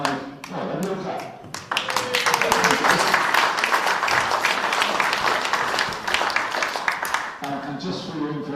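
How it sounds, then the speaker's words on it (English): Brief round of applause from a small audience at a live-streamed mental health Q&A with a head coach, a dense burst of clapping lasting several seconds and fading out, with a voice briefly heard before and after. "Oh, a little clap."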